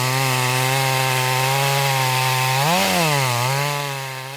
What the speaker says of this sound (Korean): 헛도는 톱날.